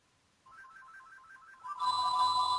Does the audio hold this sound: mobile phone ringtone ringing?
yes